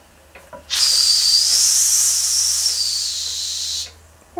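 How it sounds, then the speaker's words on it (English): Steam whistle on a Weeden 49 model steam engine, a single loud, steady, breathy high-pitched blast lasting about three seconds, close by. "See whether the whistle works."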